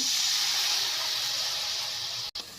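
A little water poured into a hot pan of cowpea leaves gives off a loud, close, continuous steam hiss that fades slightly, then cuts out with a brief knock near the end.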